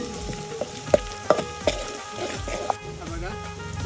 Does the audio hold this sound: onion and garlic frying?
yes